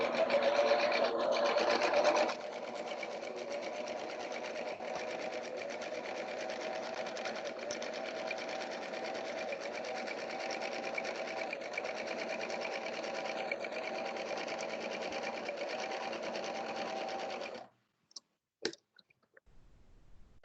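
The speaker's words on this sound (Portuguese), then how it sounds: "Ó, fez o pontinho do overlock." Overlock sewing machine stitching plain woven fabric, a fast continuous whirring hum held for about fifteen seconds after a brief louder burst, then stopping with a few scattered clicks.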